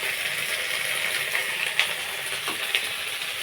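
Ginger and chili paste frying in a pan, a steady soft sizzle with a couple of faint clinks from a utensil stirring, no voices over it.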